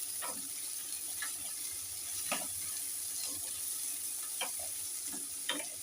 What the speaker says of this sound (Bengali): এবারে দিয়ে দিচ্ছি এখানে একটা টমেটো কুচি, দিয়ে আবার আমি একটু নাড়বো